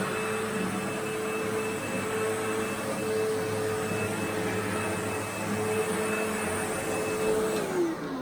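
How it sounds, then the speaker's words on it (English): Steady, loud drone of an upright vacuum cleaner running continuously over carpet, close by and alone without talk. "George is vacuuming this whole area."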